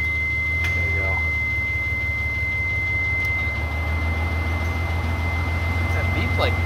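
In a car garage, a steady high-pitched electronic beep tone sounds continuously under a low hum of running machinery, with faint clanks and scraping in the background.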